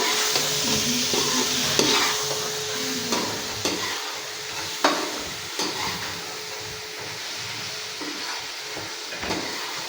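Okra stirred and fried in a roasted spice masala sizzles continuously in a pan, with a spatula scraping and clacking at irregular intervals, close and fairly loud, no talking.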